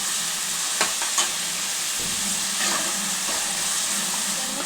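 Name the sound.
frying onions in a pan until reddish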